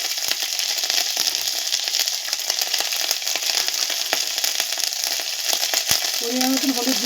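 Ginger paste and cumin powder sizzling in a hot frying pan, a steady bright crackling hiss running throughout, close and continuous, with a few clinks near the end.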